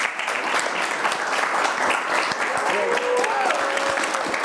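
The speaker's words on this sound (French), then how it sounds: "On applaudit pour eux." A studio audience claps for friends who sent messages on social media, giving a brief, steady burst of applause at moderate loudness with a little crowd noise mixed in.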